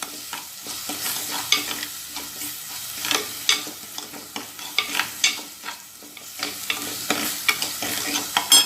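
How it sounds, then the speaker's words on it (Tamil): Ginger garlic paste sautéing in oil in a pan for an oyster mushroom gravy: a continuous bright sizzle with frequent spoon scrapes and stirring knocks, close up and without speech. "இஞ்சி பூண்டு பேஸ்ட் நல்லா வதங்கட்டும்."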